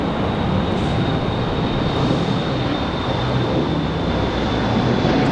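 An airliner roars steadily on its takeoff run from runway 23 right at Raleigh-Durham International Airport, a loud, continuous broadband engine rumble with a faint high whine that holds throughout, with no talk.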